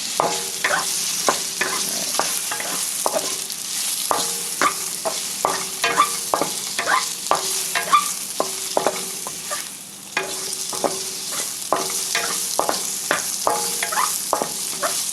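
Shrimp stir-fried in a hot pan for Vietnamese crispy chow mein give a steady sizzle, broken by regular sharp clinks and scrapes from stirring, close and loud, with no speech.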